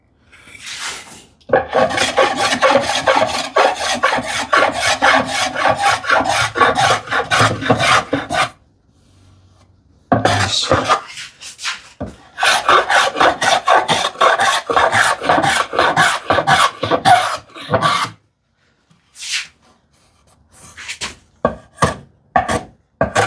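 Hand sanding of wooden end grain, with long rhythmic rasping back-and-forth strokes in two extended bursts separated by a pause, then a few slower scattered strokes at the end, close and fairly loud with no talking.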